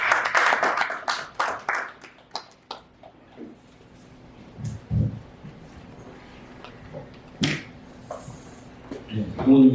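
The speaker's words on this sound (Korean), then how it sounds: "여러분들 박수로 환영해 주시기 바랍니다" Audience applause at a civil society forum welcomes a speaker: a short, dense burst of clapping that quickly fades, followed by scattered knocks and a voice talking.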